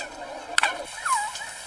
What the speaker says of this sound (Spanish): Este es el sonido de gorjeo descendente creado por el eco de una palmada